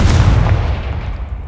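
A Confringo blasting curse in Hogwarts Legacy detonates as one loud, close boom with a sharp attack and a short rumbling tail.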